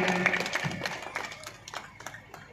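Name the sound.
audience applause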